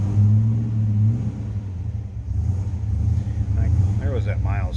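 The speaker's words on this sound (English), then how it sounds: "It's got a nice low idle to it." A 1964 Oldsmobile Cutlass convertible engine settles into a low, rumbling idle, a steady deep throb close by, with a voice speaking over it toward the end.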